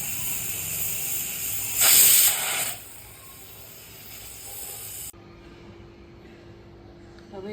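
Pressure cooker cooking potatoes on a medium gas flame lets out a steady steam hiss that swells into a louder whistling burst, then drops back to a quieter hiss and cuts off, leaving a faint low hum.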